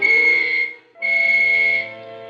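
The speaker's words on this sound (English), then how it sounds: "I waited for the whistles to signal all clear." Whistles signalling all clear in a 1961 radio suspense drama: two long, shrill, steady blasts separated by a brief gap, loud and close, the second trailing into a lower sustained tone.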